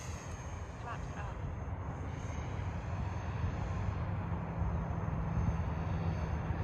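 An E-flite Blue Angel RC model jet with brakes takes off and climbs, its steady electric fan drone holding at even, moderate loudness throughout with a faint voice underneath.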